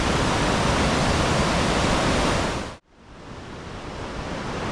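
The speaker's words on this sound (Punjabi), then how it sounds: "ਬੜਾ ਫਾਸਟ ਪਾਣੀ ਤੇ ਸ਼ੋਰ ਦੇਖੋ ਪਾਣੀ ਦਾ" A fast mountain river rushes loudly along a trekking route from Govindghat in the Himalayas, a dense, roaring wall of water noise that dips abruptly for a moment and then returns more faintly.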